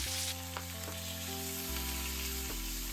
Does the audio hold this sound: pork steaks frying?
yes